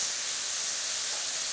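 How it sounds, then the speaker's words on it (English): Grease and oil sizzle steadily on a hot grill, a continuous bright hiss that stays even and fairly quiet throughout, with no talking. "You hear that sizzle? That lets me know that our grease, our oil is ready."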